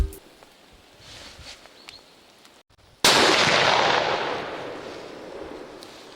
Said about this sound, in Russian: Я выстрелил навскидку по вышедшему к нам самцу муфлона.